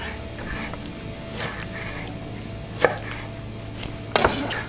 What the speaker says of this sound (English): when I'm chopping cilantro